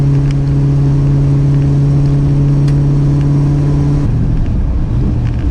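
A car running on a newly installed engine cruises with a loud, steady droning hum heard from inside the cabin, its pitch dropping slightly near the end as the engine eases off.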